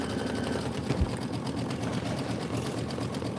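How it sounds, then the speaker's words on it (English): A sewing and embroidery machine stitching out a Kimberbell Home Sewn April tiling scene tile, a steady fast mechanical whir with rapid needle ticking and one soft thump near the start. "this is 3 minutes of stitching"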